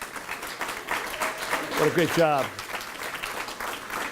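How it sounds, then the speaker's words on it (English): Audience applause for an encore choir at an annual community recognition awards ceremony, steady clapping throughout while a voice speaks over it. "Another big round of applause for the encore choir."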